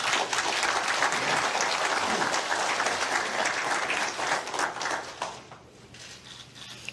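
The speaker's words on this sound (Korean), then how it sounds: "후보를 박수로" A studio audience at a televised 2017 Korean presidential candidate debate gives steady, dense applause welcoming candidate Moon Jae-in, sustained for about five seconds before thinning out near the end.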